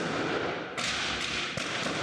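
Gunfire and explosions during a police raid in Paris: a few sharp, heavy bangs and thuds ring out against a constant wash of background noise, sounding somewhat distant.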